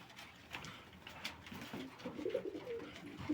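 Domestic pigeons coo softly in a series of low, throaty calls, with a few brief louder coos near the end against faint ambient noise and no talking.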